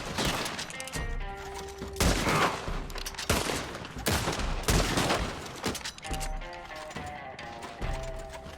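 Rapid gunfire aimed at a war wagon gunner in a video game, with dense bursts of loud, close shots repeating across the stretch, broken by short pauses, and no talking.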